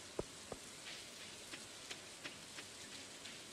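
Rain falling in the Stardew Valley video game, a soft steady patter with scattered sharper drops and a couple of louder taps near the start, faint and alone.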